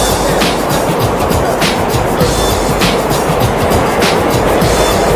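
A New York subway train rides along with a loud, constant roar and rumble, faint rhythmic clacks of the wheels recurring about once a second, heard from inside the car with no clear talk.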